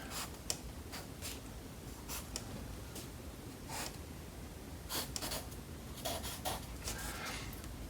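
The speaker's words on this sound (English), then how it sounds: "And then I can trace my corners." A pencil traces the corners of a card in short, faint scratching strokes that come in irregular bursts. The sound is close and quiet, with no voices.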